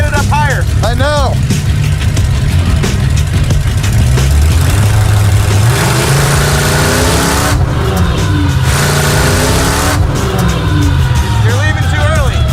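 A dump truck engine revs hard and climbs in pitch, with repeated rising and falling surges, loud and close, while people talk and shout over the roar.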